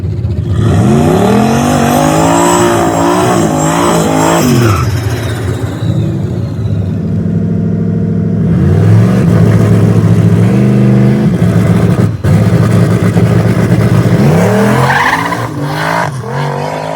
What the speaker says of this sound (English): I cleared my dad to make a quarter-mile pass.